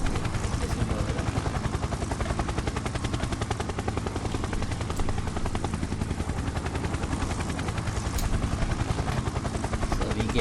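A simulated helicopter in an Unreal Engine game hovers low over dusty ground, with a steady, loud rotor chop pulsing rapidly and continuously throughout.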